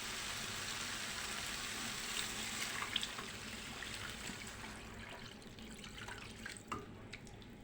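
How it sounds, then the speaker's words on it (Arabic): Water pours steadily into a pan of chicken with a continuous close splashing hiss, a few faint drips and clinks near the end. "وهنزل عليها بشويه ميه"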